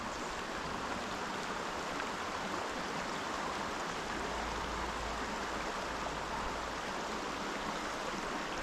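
A creek flowing where someone is fly fishing in the fall: a continuous, even broadband rush of moving water, fairly soft and steady throughout, with no voices.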